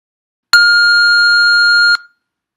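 A loud electronic test-timer beep marks the start of preparation time in a TOEFL speaking practice test, one steady tone of about one and a half seconds with a strong harmonic, stopping abruptly and heard alone.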